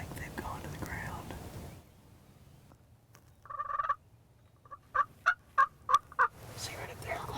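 Wild turkeys gobble on a chilly-morning turkey hunt: one gobble, then a quick run of four or five loud gobbles at moderate distance, with people whispering before and after.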